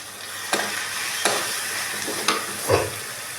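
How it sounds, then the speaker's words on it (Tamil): Chopped tomatoes tipped into a hot frying pan while cooking rasam and potato poriyal, giving a steady sizzle with a few sharp stirring scrapes and clatters spaced through it, close and moderately loud with no talking. "தக்காளி போட்டுக்கலாம் ஒரு மூணு தக்காளி அரிஞ்சு வச்சுருக்கேன்"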